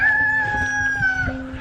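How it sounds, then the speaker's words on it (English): A rooster in a free-range flock crows loudly and close, one long drawn-out call, with soft hen clucking underneath. "Free-range chickens."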